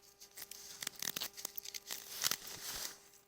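A pet cat shuffles and crinkles inside a plastic bag, producing quiet, irregular rustles and sharp crackles with a faint steady hum behind them.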